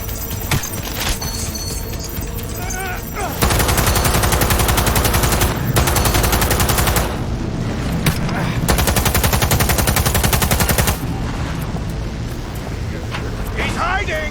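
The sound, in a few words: gunfire in the video game Cyberpunk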